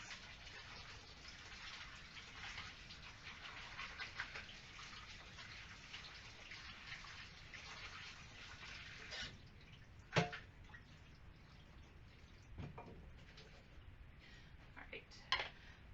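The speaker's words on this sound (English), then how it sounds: "Gonna go to the sink, give them a good rinse." Tap water runs steadily into a kitchen sink over chopped sweet potatoes being rinsed, a soft continuous splash with a couple of sharp clunks near the end.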